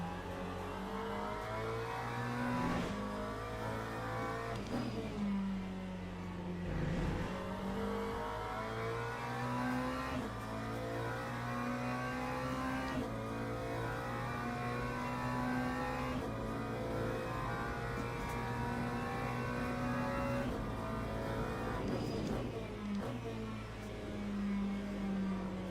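A race car engine in the sim racing game Le Mans Ultimate drones steadily and loud, with repeated rev rises and gear changes while the car runs on track, heard alone without talking.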